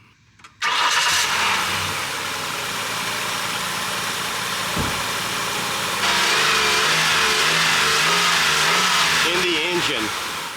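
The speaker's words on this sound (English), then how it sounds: "Let me go ahead and start it up, and let's just kind of like listen to it at low speeds here." A car engine with an ignition problem cranks and catches, then runs at a steady idle with a low rumble, revving slightly higher toward the end.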